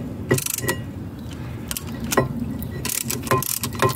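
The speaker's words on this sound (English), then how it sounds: "is one of the whizzy windback tools that I was on about" A windback tool winds a brake caliper piston back in on a Volvo V70, giving intermittent ratcheting clicks and mechanical clunks up close, spaced irregularly.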